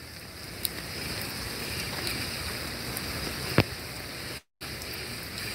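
Steady rain falls at night in downtown Charleston, a soft continuous hiss over the street with a few faint taps and a brief sharp click, and no talking.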